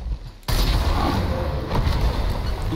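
A sudden loud blast erupts after a brief quiet moment in the video game Gears Tactics, followed by sustained booming, crackling gunfire and rumble.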